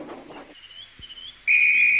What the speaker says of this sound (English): Oh, that's my guard's whistle.